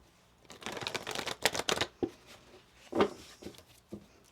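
Tarot cards being shuffled at close range in a quiet room, a flurry of crisp riffling bursts followed by a few softer, separate slaps and flicks.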